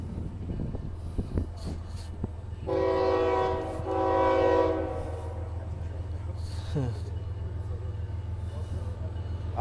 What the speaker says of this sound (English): Here she comes now. There you go, horn show.